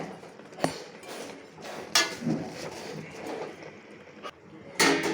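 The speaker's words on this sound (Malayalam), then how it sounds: "ഇതൊന്ന് ചെറുതായിട്ടൊന്ന് ഇളക്കിയിട്ട് ഒന്ന് മൂടി വെക്കട്ടെ" Spinach cooking in a pot is stirred and covered, giving scattered metallic clinks and knocks of a utensil and lid against the pot over a quiet kitchen background, with a louder clatter near the end.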